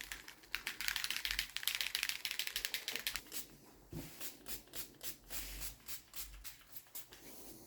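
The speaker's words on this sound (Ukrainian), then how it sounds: "Збовтаємо фарбу близько хвилини, не менше, щоб компоненти всі перемішалися гарно." Rapid rattling clicks of a bottle of suede dye being shaken, a dense fast burst that turns into slower rhythmic sloshing shakes, close and steady for several seconds.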